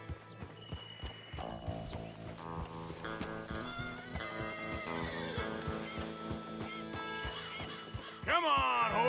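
Horses in Red Dead Redemption II neigh and whinny over steady clip-clopping hooves and game music, with a loud, close, rising whinny at the end.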